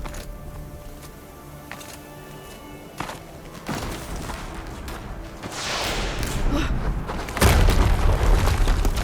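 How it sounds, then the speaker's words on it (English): Explosions rumble through the Maker's End level of the video game Horizon Zero Dawn Remastered. Several sharp thuds are followed by a swelling roar, and a deep, loud blast near the end breaks into sustained low rumbling. "Another explosion."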